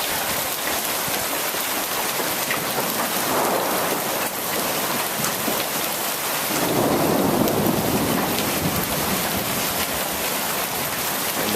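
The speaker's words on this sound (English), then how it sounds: "And the hail's starting to add up on the ground." Hail and heavy rain pour down during a thunderstorm in La Crosse in the morning, a dense, loud, steady hiss and patter close by, with thunder rumbling low partway through.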